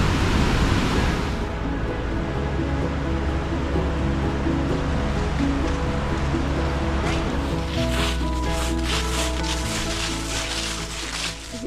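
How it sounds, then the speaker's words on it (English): Fast-flowing river water at Aysgarth Falls in the Yorkshire Dales, running high after heavy flow, makes a loud, steady rushing roar throughout with no break. "There's an awful lot of water in the river."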